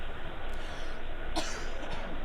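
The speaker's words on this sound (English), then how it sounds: "Excuse me, there's the cough." A single short cough from a man, close to the microphone, heard over a steady background hiss.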